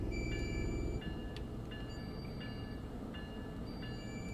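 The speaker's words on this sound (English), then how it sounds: "Is that the other train again?" Train passing on the Northeast Corridor between New York and Trenton in Train Sim World 4, a steady low rumble of rolling wagons with thin high tonal whines and short electronic beeps, heard alone with no voices.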